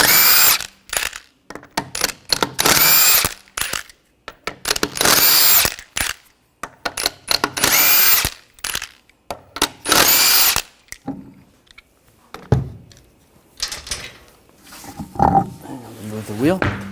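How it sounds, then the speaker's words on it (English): Impact wrench with a 21mm socket removing a rear wheel from a 2014–2020 Nissan Rogue, firing in several loud, close bursts separated by short pauses, then quieter handling noises. "Remove the wheel, use a 21mm socket."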